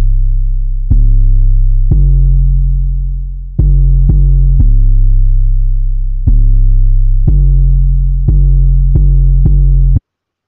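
Deep synth bass in FL Studio, shaped with a parametric EQ and ducked by a kick sidechain, plays loud, sustained notes in a rhythmic pattern, each note dipping and swelling with the pumping kick.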